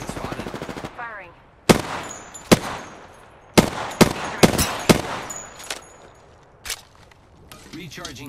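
Bursts of automatic and single gunfire in the Apex Legends video game, loud and close, with sharp repeated shots spaced irregularly across the clip and faint mechanical clicks between them.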